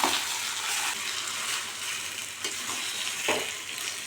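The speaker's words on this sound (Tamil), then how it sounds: "கருவேப்பிலை சேர்த்து கலந்து வச்சுருக்கிற காய் எல்லாத்தையும் அதில் போட்டு கிளறி எடுத்துருவாங்க" Vegetables for avial being stirred into a tempering with curry leaves in a pan, giving a steady broadband sizzle with soft scraping strokes throughout, close and moderately loud with no talking.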